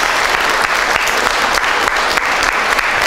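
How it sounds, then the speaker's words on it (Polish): A large audience at a Polish anniversary concert claps for young performers, a loud, dense, continuous applause that holds steady throughout without letting up. "Brawa dla najmłodszych, niesamowicie utalentowanych ludzi."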